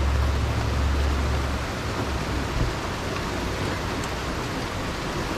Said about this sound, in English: You can hear it raining, but we needed the rain so bad.